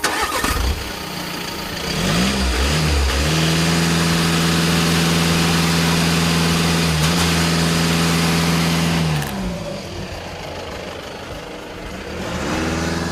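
A 2015 VW Golf TDI 2-liter diesel engine, rising from idle to a steady held rev near its limit for several seconds with a strong droning tone, then dropping back to idle.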